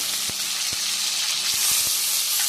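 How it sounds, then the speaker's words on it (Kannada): Tomatoes tipped into very hot oil for a gravy give a steady, close sizzle with a few soft clinks and stirs over the top. No one speaks. "ಇದು ಎಣ್ಣೆ ತುಂಬ ಕಾದಿದೆ ಹಾಗೆ ನಾನು ಬೇಗನೆ ಹಾಕ್ತೀನಿ ಟೊಮೆಟೊ ಎಲ್ಲ ಒಟ್ಟಿಗೆ ಹಾಕ್ತೀನಿ"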